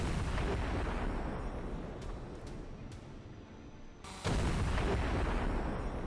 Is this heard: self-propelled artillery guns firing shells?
yes